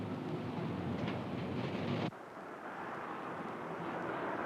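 A short passenger train rumbling past, a loud low roar that cuts off abruptly partway through, leaving a quieter hiss of lingering rail noise.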